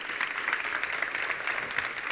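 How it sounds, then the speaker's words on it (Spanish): An audience at a business talk welcomes the speaker Íñigo de la Serna with applause, moderately loud, with individual claps standing out from an even, ongoing patter. "Muchas gracias y un fuerte aplauso."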